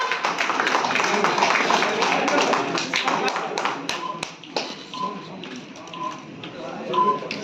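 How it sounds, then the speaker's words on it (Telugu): Dense crowd clapping at the Volunteer movie title launch, led by a guru, loud and steady for a few seconds before thinning, with scattered voices beneath. "ఒకసారి గట్టిగా చప్పట్లతో ఎవ్రీవన్ కమ్ ఆన్"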